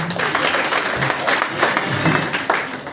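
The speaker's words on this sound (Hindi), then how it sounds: "हाँ, ताली मारो इसके लिए कम से कम।" An audience in a room breaks into dense, steady applause, many hands clapping together close by for the whole three seconds.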